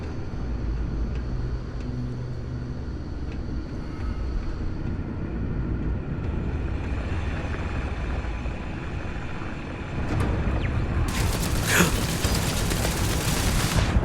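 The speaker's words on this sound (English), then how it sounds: "I got taken out by turrets." Automatic turret gunfire in the space game Starfield, a rapid fusillade bursting in loud and close near the end over a steady ambient game rumble.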